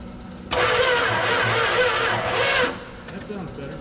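An old Mopar station wagon engine, left sitting for 31 years, cranks with a starter whir for about two seconds then stops, close and loud, with voices around it.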